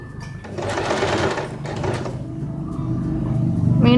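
A sewing machine stitches petticoat fabric for a slit petticoat worn under a kurti. The motor whirs in several bursts of rapid stitching with brief pauses between runs, and no voices are heard.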